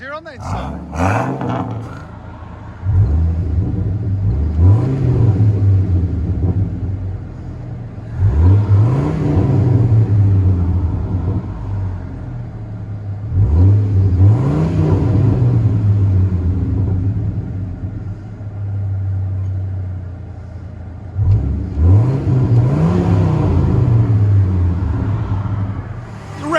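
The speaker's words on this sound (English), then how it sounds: "Ram 2500 V10 muffler delete and 5-inch tip." A 2001 Dodge Ram 2500 with an 8.0L V10 and straight-pipe exhaust, muffler deleted with a 5-inch tip, revs repeatedly. It gives about five loud, deep roaring blips separated by a rumbling idle, heard close up.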